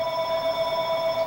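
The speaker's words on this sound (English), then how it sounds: "Sorry about the phone ringing." A telephone rings steadily and alone indoors, its bell tone sustained and moderately loud through the whole short stretch, during a polynomial functions lesson.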